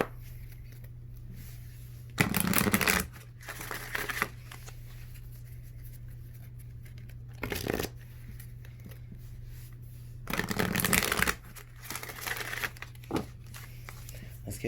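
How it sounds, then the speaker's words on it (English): Tarot cards are shuffled in three loud bursts of riffling and clattering, separated by quieter stretches with a low steady hum in the background. "Let's get one more shuffle."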